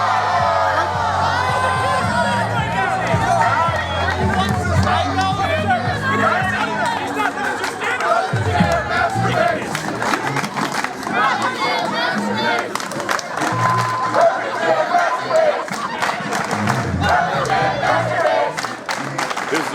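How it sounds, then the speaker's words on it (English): A large outdoor crowd at a university gathering chatters and shouts continuously, with bursts of cheering and yelling, loud and dense throughout. "This is a great crowd."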